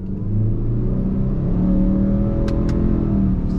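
A 2021 Subaru Ascent midsize SUV accelerates on throttle from a stop, its engine hum rising in a smooth continuous drone heard from inside the cabin, with two brief faint clicks near the end.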